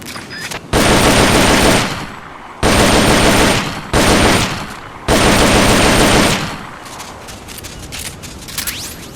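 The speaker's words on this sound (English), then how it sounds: "The M16 is a standard assault rifle capable of rapid fire." M16 assault rifle in Metal Gear Solid: Peace Walker firing three long, loud bursts of rapid automatic fire, each about a second or more, separated by brief pauses with faint mechanical clatter.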